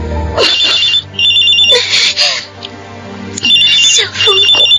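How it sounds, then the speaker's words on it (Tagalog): A cellphone rings with a loud, high electronic ringtone in repeated bursts, interrupted by stretches of dramatic background sound, close and prominent throughout. "Cellphone ko."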